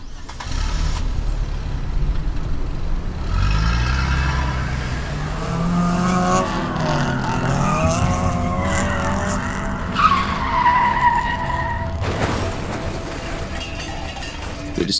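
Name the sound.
car skidding and crashing in the video game The Bookwalker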